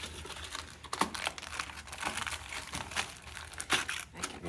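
A small piece of aluminum foil being handled up close while making an eclipse viewing box, with soft crinkling and crumpling that comes and goes in quiet bursts, with no talk.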